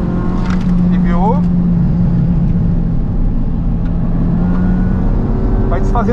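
Race car accelerating on a track, its engine droning loud and near with pitch sweeps as it revs through gears, while people talk excitedly over it.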